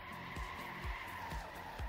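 Tires skidding and squealing as a car drifts through a turn in a racing video game, with a steady engine tone under repeated short screeches, loud and close, no talking.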